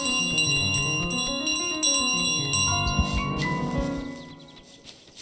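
A bell carried by the goose in Untitled Goose Game rings repeatedly over the game's light plinking piano music, with steady bright tones through most of the stretch before fading toward the end.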